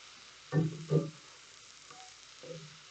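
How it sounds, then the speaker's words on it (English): Potatoes fry in a pan on a stove at high heat, giving a steady hiss with a few louder, brief crackling bursts. "I want those potatoes to fry"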